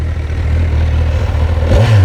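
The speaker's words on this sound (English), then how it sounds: "I'll give it a little rev." A 2020 Kawasaki Ninja 1000SX motorcycle with stock exhaust idles in neutral with a low steady rumble, then briefly revs up near the end, the pitch rising sharply before settling.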